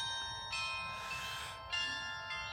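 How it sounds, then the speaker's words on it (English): Distant bells at Keukenhof in the Netherlands ring out sustained tones that shift pitch like a slow tune at 6 o'clock, over a steady outdoor background. "Some bells over there playing the song."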